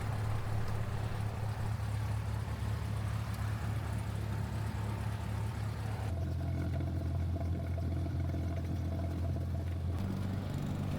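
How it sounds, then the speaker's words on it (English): Small airplane accelerating down a runway for takeoff, a steady loud engine drone heard from inside the cabin that shifts in pitch partway through, with no talk. "we're on the runway, accelerating"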